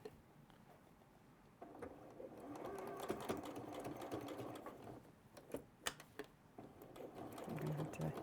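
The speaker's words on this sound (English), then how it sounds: "So then I'm going to sew all the way." A sewing machine stitches quilt fabric with a faint, quick mechanical patter, fairly quiet and running on through the clip amid light handling noise.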